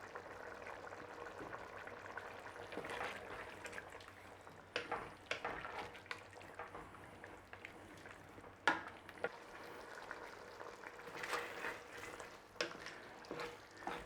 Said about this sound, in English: We just need to actually boil it down a little bit